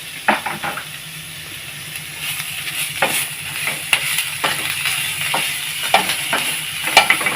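Bitter gourd sautéing in oil in a pan for a tamarind kothsu, a steady sizzle broken by scattered scrapes and taps of a spoon stirring close by, with no talking.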